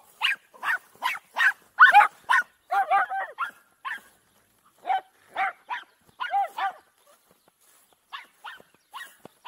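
A dog kept as a guard dog for sheep on a farm barks loudly and close by, a rapid run of sharp barks, then a broken series of yips and whimpering barks with short gaps, with no other sound.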